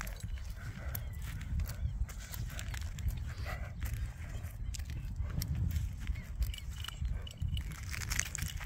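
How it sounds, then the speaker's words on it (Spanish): Criollo horse walking outdoors, hooves clip-clopping in a steady irregular rhythm amid constant wind and ambient noise, moderately near. "Caballito, que ágil."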